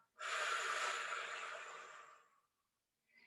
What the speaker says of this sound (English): Exhale. Let all of that air out.